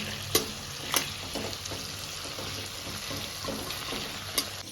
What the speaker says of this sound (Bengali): আলুগুলো মা ভেজে রেখে তুলে নিল